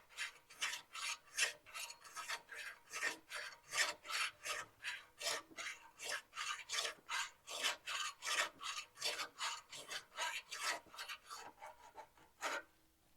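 File rasping across steel to sharpen a tool, about thirty rhythmic back-and-forth scraping strokes, close and fairly quiet, with no voices.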